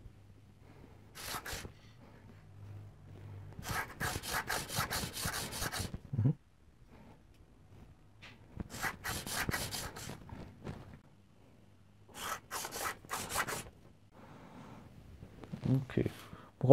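A metal bed on a 7 x 14 mini lathe is lapped by hand, making repeated bursts of scraping, rasping strokes with quiet pauses between them as someone talks in German.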